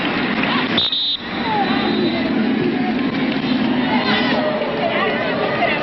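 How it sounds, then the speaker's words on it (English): A 1995 US versus Norway women's soccer match at RFK Stadium, where a vocal stadium crowd keeps up a steady roar and hubbub under close commentary, with a brief buzzer-like tone near the start. "And a vocal crowd as well here at RFK."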